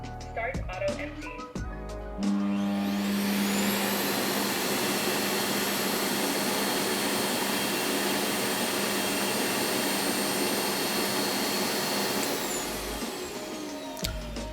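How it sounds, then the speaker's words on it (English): DreameBot L10s Ultra robot vacuum dock running its auto-empty cycle, a loud steady suction roar that starts abruptly after a few clicks and holds for about ten seconds before cutting off, with a faint voice at the start. "I'm just going to show you how loud the auto empty feature sounds"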